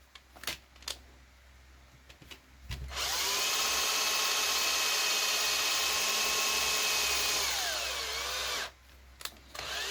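A power drill drives a screw into the chassis of a Losi 22S drag RC car: a few small clicks and handling knocks, then a steady close whirring run of about six seconds that slows and stops.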